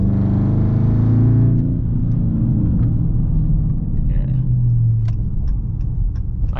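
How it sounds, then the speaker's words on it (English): A Dodge Charger R/T engine rumbles from inside the car while driving, a deep throaty drone that is loudest at first, then eases to a steadier hum with a low rise near the end. "I love the way this car sounds."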